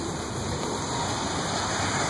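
Rainwater pouring steadily through a house downspout with broken gutters, a continuous close rushing wash of falling water with no pauses.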